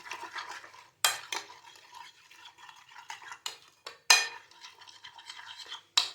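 Spices such as chili powder, salt and orange food colour being mixed with a spoon in a bowl, brisk scraping strokes with sharp clinks against the dish, close and fairly quiet with short pauses.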